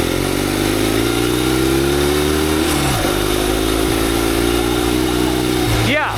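A turbocharged mini bike with a generator engine and a four-speed gearbox revs hard and close while ridden on ice and snow, its pitch rising and dropping as the gears shift, with a voice talking over the engine.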